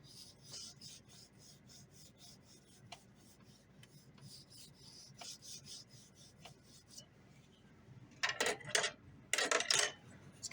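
A blade cuts chamfer lines into a balsa wood fishing lure with a rhythmic series of faint, close scraping strokes, followed by a few louder, rasping cuts near the end.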